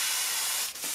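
Airbrush misting Createx pearl paint, heard as a steady close hiss of spray that dips briefly near the end.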